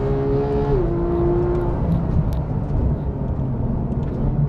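A Porsche GT3 with PDK gearbox on a race track under full throttle, a loud continuous engine drone with a quick pitch drop at a gear change, then steady sustained engine roar.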